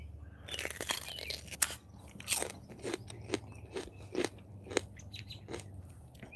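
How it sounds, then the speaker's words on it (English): Someone chews breakfast in a garden, a string of soft close crunches and bites coming every half second or so against a quiet outdoor background. "Pardon the chewing."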